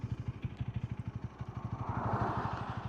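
A Honda Rebel motorcycle engine starts and idles with a steady, close, rapid low thumping pulse, then the noise swells into a broader, slightly louder roar toward the end.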